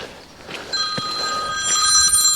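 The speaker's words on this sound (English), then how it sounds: "Just about to get a phone call from Jimmy for sure." A telephone rings with a bright, steady electronic trill that starts partway in and keeps sounding against faint background noise, with no one talking.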